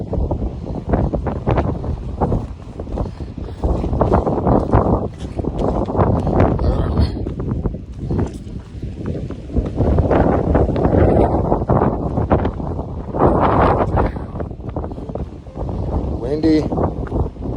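Strong gusty wind buffeting the microphone on a freezing Appalachian Trail mountain summit in Maine, loud rumbling surges that rise and fall, with people talking at times.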